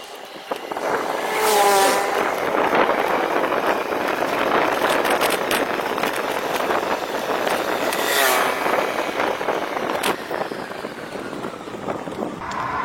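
Vehicles rushing past on a road beside a new Indian Oil petrol pump, a loud continuous roar of engines and tyres with passes swelling and fading, and a brief faint voice.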